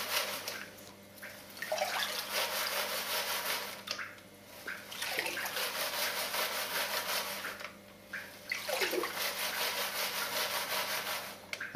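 Water sloshes and swishes in long rhythmic strokes as gold concentrate is rinsed in a sluice box, with three brief pauses between strokes, close and steady.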